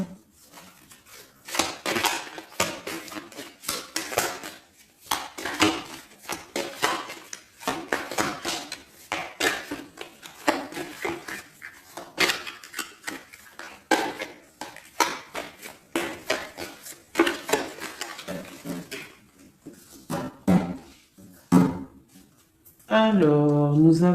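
Tarot cards shuffled and cut by hand, giving a close, rapid run of crisp papery slaps and riffling flutters in irregular bursts with brief pauses and no talking.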